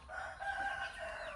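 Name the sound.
rooster crowing on an organic farm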